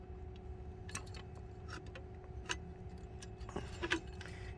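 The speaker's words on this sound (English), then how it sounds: "then turn the key and lock it" A key turns in a Turnart heavy duty wheel lock fitted on a car tire, giving small metallic jangles and clicks, close and fairly quiet over a steady low background hum.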